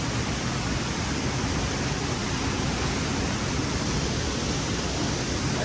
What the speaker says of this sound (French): En fait, tu descends carrément sur la cascade.